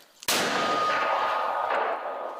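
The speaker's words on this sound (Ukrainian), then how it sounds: "Мінометом 120-го калібру працюють по ворожих засідках" A 120 mm mortar fires a single loud, sharp blast that then rings out in a long, fading roar.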